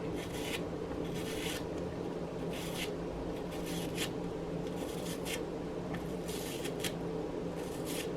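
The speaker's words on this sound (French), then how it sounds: "j'ai un peu d'oignon que je veux couper" A knife slices through an onion in quick bursts of crisp, rasping cuts, grouped in short strokes separated by brief pauses, close and fairly quiet.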